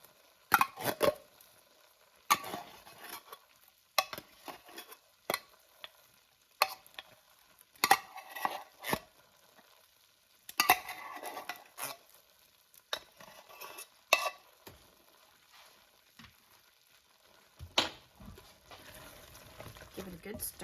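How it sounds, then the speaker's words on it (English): A spoon stirs canned cream of mushroom soup in a pot, giving repeated scraping, clinking strokes in uneven bursts with quiet gaps, close and fairly loud. "Give it a good stir."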